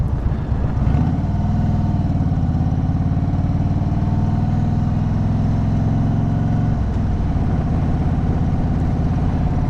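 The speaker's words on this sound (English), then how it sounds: "this engine sounds so mean in sport mode" A car engine in sport mode runs loud and close with a deep, throaty drone, stepping up in pitch and intensity for several seconds before settling back.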